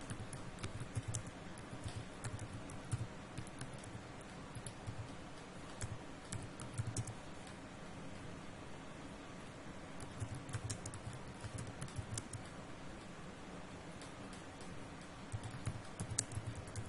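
Steady typing on a computer keyboard, a continuous stream of quiet, close key clicks at an irregular, quick rhythm over a low background hum, with no talk.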